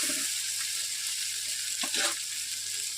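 Crab curry masala fries in a pan with a steady close sizzle, broken once by a short scrape of stirring partway through, and no talking.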